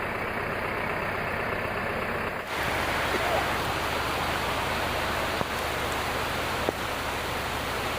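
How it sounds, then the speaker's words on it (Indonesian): Heavy rain pours steadily over an extreme uphill off-road track, a dense, unbroken hiss that fills the whole stretch, with a low engine-like rumble beneath it. "hujan lagi."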